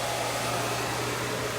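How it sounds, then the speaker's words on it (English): A very hot hair dryer fitted with a diffuser runs steadily for a haircut, giving a constant even whooshing blow with a low motor hum, close by and unbroken, with no talking. "So notice I always put my hand in front of the dryer because this dryer gets super hot."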